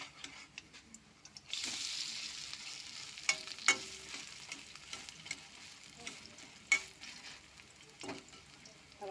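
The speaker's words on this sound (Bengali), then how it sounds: "পেঁয়াজিটা ভাজা বসিয়েছিলাম, হয়ে গেছে, আমি তুলে নেবো।" Onion fritters (peyaji) frying in oil, a quiet, steady sizzle with occasional sharp clicks and taps of a utensil against the pan.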